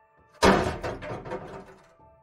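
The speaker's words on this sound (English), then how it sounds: "Sergeant Robert Willoughby kicked the door in" A door kicked in during a police entry into a bedroom: one sharp heavy thud and crack, followed by a short rattling, splintering decay.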